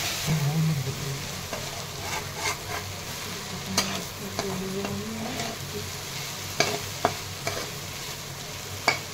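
Okra with yogurt being stirred in a hot pan for dahi bhendi, with a soft steady sizzle under scraping spoon strokes and a few sharper clicks against the pan near the end.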